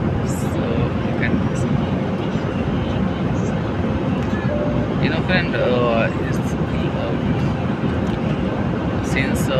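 Airplane cabin during flight, with a loud, steady engine roar filling the whole clip while a person talks over it.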